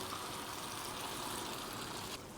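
A little water streams into a pot of five or six tomatoes cooking for a lentil and onion dish, a soft, steady trickle that stops abruptly near the end.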